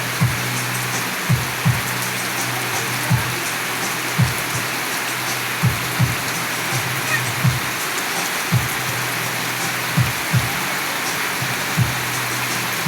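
A steady downpour from Typhoon Basyang hisses loudly and continuously, while intermittent dull thuds land under the rain at uneven intervals.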